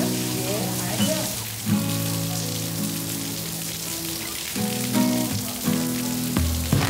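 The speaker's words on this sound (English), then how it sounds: "The rain here in South Korea is absolutely brutal." Heavy rain hisses steadily at a Joseon-era palace in Jongno-gu, Seoul, South Korea, with tonal music playing underneath.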